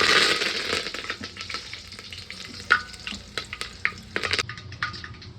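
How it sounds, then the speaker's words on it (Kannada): Mustard seeds and curry leaves sputtering in hot oil for sambar, a close sizzle with sharp scattered pops and crackles that grow sparser as it settles. "ಈಗ ಸಾಸಿವೆ ಹಾಕ್ಕೊತಾ ಇದ್ದೀನಿ. ಕರಿಬೇವು ಹಾಕ್ಕೊತಾ ಇದ್ದೀನಿ."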